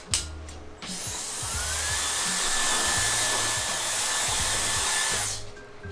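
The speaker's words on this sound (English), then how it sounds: "we're going to move to blow drying the hair" Hair dryer blow drying hair after a mid skin fade at a barbershop, a few short clicks then a loud steady rushing whoosh that holds for about four seconds before cutting off, close by with no talking.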